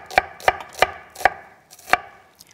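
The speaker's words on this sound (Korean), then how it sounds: "이렇게 양파를 조금만 너무 두툼두툼하게 썰지 말고" Knife slicing onion thinly on a cutting board: five crisp, evenly spaced chops close by, with a short pause before the last one, and no talking.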